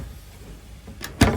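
A drop-down overhead wall storage door in a custom large van fit-out, a quick soft knock then a sharper thump as it drops or shuts, close and brief.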